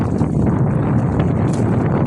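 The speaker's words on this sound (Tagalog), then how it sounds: "Kung malakas po pati ang hangin." Strong wind roars steadily across the microphone at sea during night fishing among large waves, a dense broadband rumble with gusty buffeting and no talk.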